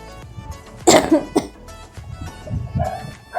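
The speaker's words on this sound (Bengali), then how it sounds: "একটু অল্প অল্প কাশছে" A child coughs a few times in quick, close bursts, followed by softer breathy sounds and small vocal noises.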